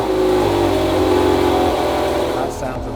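A 2008 supercar with an F1 automatic gearbox revs loudly and close, its engine note climbing and holding before dropping off near the end.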